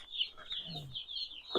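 Young chicks or poults peeping under a heat lamp, a run of high, thin chirps close by, with a faint lower voice in the background.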